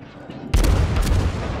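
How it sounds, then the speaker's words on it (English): Heavy naval gunfire from battleship shells in World of Warships, a sudden loud booming barrage that erupts after a quiet moment and rolls on with overlapping blasts. "Incoming battleship shots."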